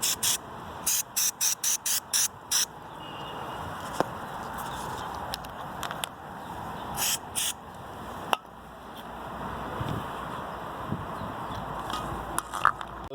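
Rust remover sprayed from an aerosol can onto the horn and indicator hub of a VW Transporter T4 steering wheel: a run of short, loud hissing bursts in quick succession, then a few scattered sprays over quiet background.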